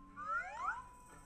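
A cat gives a short, rising-and-falling meow with a clear tonal sweep, moderately close against a quiet background.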